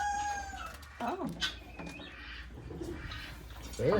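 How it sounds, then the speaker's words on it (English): A rooster crows on a farm amid other fowl clucking, heard in short bursts against a busy outdoor background, with other animal and bird calls scattered through. "I heard a rooster crow."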